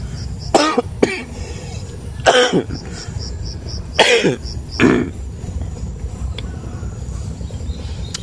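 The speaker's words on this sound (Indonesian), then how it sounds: "saya sedang tidak sehat, sedang batuk-batuk ini" Several harsh coughs and throat clearings come in bursts close to the microphone, with faint bird chirps in the background.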